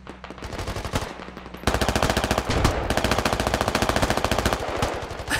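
Rapid automatic gunfire in the military shooter game Squad rattles out loud and close. A shorter burst comes first, then a long, sustained stream of evenly spaced shots. No voices.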